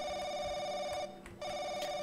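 A telephone rings in The Crooked Man horror game, a steady electronic bell tone in two repeated bursts with a brief gap between them, clear and close with no talking.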